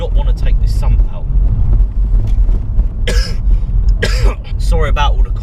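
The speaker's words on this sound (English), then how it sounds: "Sorry about all the coughing as well." A person who is ill coughs and clears their throat in a few harsh bursts near a car, with a voice murmuring in between.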